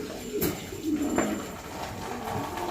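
Red pouter pigeons give low, throaty coos in short repeated bursts, close but fairly faint, with light rustling between calls.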